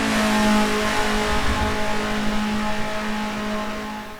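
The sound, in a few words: race car engine at high RPM shifting gears, Assetto Corsa video game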